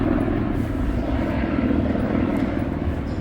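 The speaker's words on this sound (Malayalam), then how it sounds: "ഒരു ഹെലികോപ്റ്റർ പോകുന്നതിൻ്റെ സൗണ്ടാട്ടോ" Steady low rotor-and-engine drone of a helicopter passing overhead at the University of Auckland, New Zealand, loud and continuous throughout with no voices.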